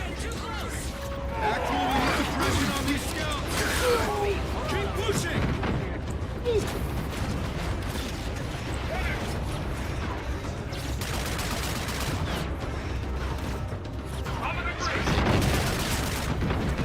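Rapid bursts of gunfire from a gun in a video game crackle and boom almost continuously, dense and loud, with a few brief lulls.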